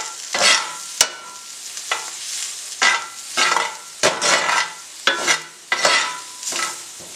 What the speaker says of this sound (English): we're going to stir this all around to make sure it's well incorporated